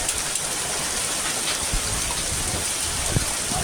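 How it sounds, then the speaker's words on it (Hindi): Heavy October rain pours down in Sadar Bazaar, Agra, a steady, dense hiss with occasional louder drops, continuous throughout. "जोरों की बारिश होती है यहाँ पे अक्टूबर के महीने में।"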